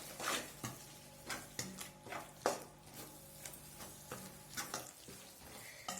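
A spoon stirs yogurt into tomato rice in a pan, giving soft irregular scrapes and light taps against the metal over a faint sizzle, close and fairly quiet, with no voices.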